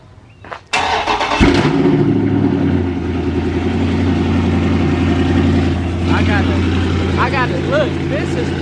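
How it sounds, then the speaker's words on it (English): A car engine cold-starts with a brief crank and catches into a loud, steady close idle that runs on evenly, while someone talks over it. "I'm about to start the car now"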